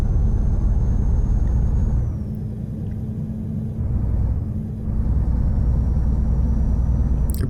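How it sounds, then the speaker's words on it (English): A DAF XF 105 truck with a Paccar MX engine in Euro Truck Simulator 2, engine braking and throttling: a steady, loud low diesel rumble that dips midway and swells again, with no talk. "the sound of this engine makes it so interesting to just braking and throttling around this"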